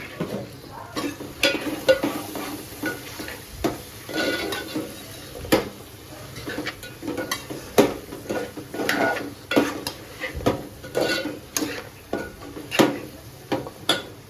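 Jackfruit vegetable being sautéed in a home kitchen in a Konkan village, with repeated scraping and clinking of a spatula against the pan over a soft sizzle, in uneven bursts of stirring, no talking.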